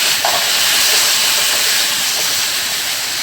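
Potatoes frying in a pan give off a loud, steady, close hiss of sizzling oil that runs unbroken throughout with no talking.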